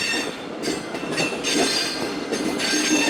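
Khushal Khattak passenger train pulling out of a station on the Multan to Dera Ghazi Khan line, a loud continuous rumble of railcars and rolling wheels with faint squeals, heard close and without talk.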